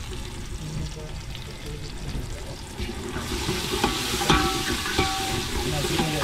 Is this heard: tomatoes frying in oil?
yes